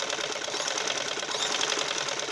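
A sewing machine stitching shalwar fabric, running fast and steady with a dense, even rattle of the needle, close and continuous throughout.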